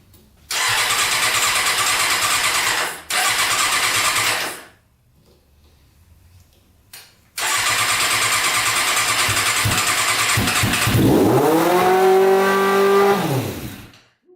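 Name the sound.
Yamaha Banshee two-stroke engine starting and revving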